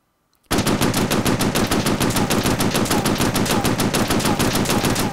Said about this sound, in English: Is there a mounted machine gun somewhere? Yeah, there's one get up here and rip up some stuff.